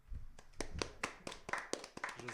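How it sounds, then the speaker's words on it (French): A small studio audience claps for guest Tom Perkis on a French late-night show, with sparse, uneven hand claps ringing out close and fairly quiet over a brief stretch. "Applaudissez-le, le pauvre."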